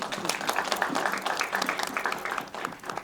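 An audience claps at a film promotion event in Chandigarh, with a burst of moderately loud applause mixed with voices and crowd noise that tapers near the end.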